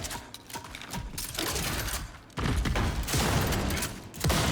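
Gnasher shotgun fire in the video game Gears of War E-Day, loud blasts in a dense multiplayer battle mix, with heavy booming shots around the middle and near the end over continuous clatter and mechanical action.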